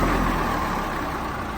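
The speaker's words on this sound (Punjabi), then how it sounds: "ਸੋ ਆ ਚੈੱਕ ਕਰੋ ਟਰੈਕਟਰ ਦੀ" A 2013-model tractor engine with a slightly weak battery idles with a steady, low, even rumble throughout, close by and constant, with no talking over it.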